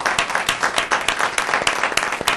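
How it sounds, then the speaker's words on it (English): An audience at a public event on school and business partnerships in American education applauds, giving a dense, steady round of clapping throughout with no talk over it. "Would you please join me in a round of applause for Susan?"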